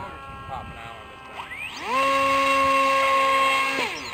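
RC model airplane motor revving before takeoff: a brief whir, then a sharp rise to a steady high-pitched whine held for about two seconds before dropping off, close and loud.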